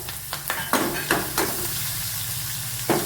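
Chopped small shallots and green chillies sauté lightly in a pan, giving a soft steady sizzle broken by several louder stirring scrapes and rustles, with no voices.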